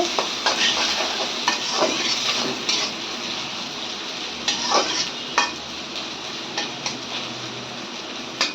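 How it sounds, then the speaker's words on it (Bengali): Onion and green chilli are stirred in hot oil, a steady close sizzle running throughout, punctuated by repeated light scrapes and taps of a spatula against the pan. "গরম তেলের মধ্যে পেঁয়াজ দিয়ে দিচ্ছে কাঁচামরিচ ভালো করে নেড়ে নিচ্ছে"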